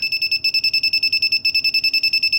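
Loud, shrill electronic beeping from a nearby MQ gas detector alarm built on breadboards, reacting to alcohol, pulsing quickly and evenly throughout with a brief hitch midway.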